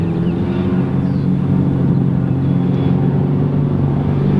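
Race cars, including a big turbo European car, run flat out down the back straight at Buttonwillow Raceway, a loud steady engine drone and rumble heard at a distance with no talk.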